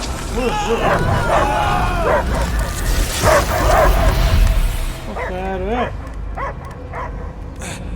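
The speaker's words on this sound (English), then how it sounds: "I hear only barking." Dogs bark and yelp in short bursts while voices talk over them, in the video game Marvel's Guardians of the Galaxy.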